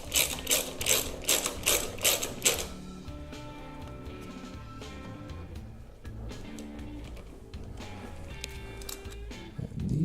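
Hand ratchet snugging down the sprocket bolts on a Honda RC51 motorcycle, about seven quick rasping clicking strokes up close, then quieter clinks and handling noises.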